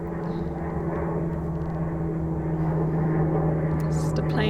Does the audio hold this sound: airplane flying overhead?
yes